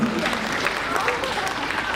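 Audience at a municipal anniversary ceremony for 25 years of local government in Wieliszew gives a short, steady round of applause for an award, a dense patter of many hands at moderate distance.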